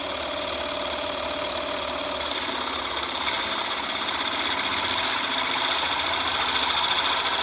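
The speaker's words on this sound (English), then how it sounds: "So now the motor's under quite a bit of load. It's not turning very fast at all. Now it's actually trimming the case." A motor-driven 3D-printed power trimmer hums steadily while trimming a cartridge case under heavy load, its whine slowed and buzzing with vibration, continuous and close.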